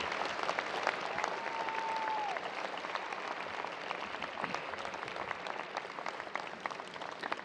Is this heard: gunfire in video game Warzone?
no